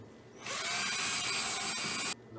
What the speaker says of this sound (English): Gotta countersink your screws in this.